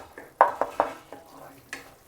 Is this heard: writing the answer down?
no